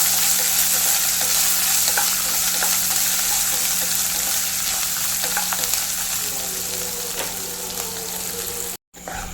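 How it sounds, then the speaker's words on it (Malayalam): Chopped garlic and ginger frying with cashews and raisins in a pan for idli biryani, a loud steady sizzle with occasional stirring scrapes, close, ending in a brief cut of silence. "ഇതുകൂടെ ഒന്ന് ചെറുതായിട്ടൊന്ന് മൂപ്പിച്ചെടുക്കാം"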